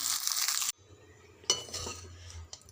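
Leftover rice is stirred together with chili powder in a pan. A short burst of scraping and rustling comes first, then quieter gaps broken by a few soft clinks of a utensil on the pan, all close and faint.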